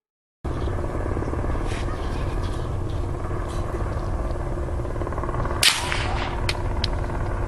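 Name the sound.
helicopter circling overhead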